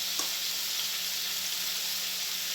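Potatoes frying in a pan for a homemade prawn curry give a steady, close hiss of sizzling oil, even and unbroken, with no voices over it.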